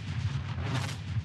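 Thunder from a lightning bolt rumbles in a deep, continuous roll, loud and heavy with low booming pulses throughout the short stretch, no voices present.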